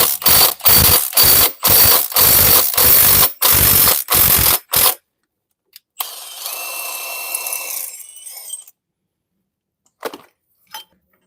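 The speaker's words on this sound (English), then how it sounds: "Undo the bolt." A ratchet undoes a bolt on a Ford Transit Custom during a wet cam belt replacement, giving about a dozen loud, rapid, evenly spaced clicks, then a short whirring spin and a few faint knocks.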